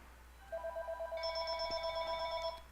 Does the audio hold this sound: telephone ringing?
yes